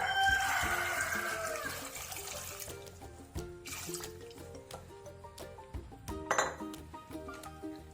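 Water pours and trickles into a cooking pot of taro curry for a couple of seconds, followed by clinks and knocks of cookware, with faint clucking nearby.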